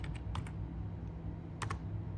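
A few quick computer keyboard keystrokes entering a value into CNC blade offset software, soft clicks in small bursts over a steady low hum, no talking.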